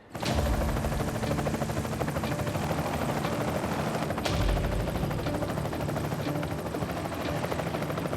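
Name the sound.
helicopter flying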